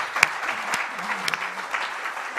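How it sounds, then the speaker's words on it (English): An audience at a memorial lecture applauds a speaker, a steady patter of many clapping hands with a few sharper claps standing out, moderately loud throughout the short burst. "Can we all give Neale another round of applause?"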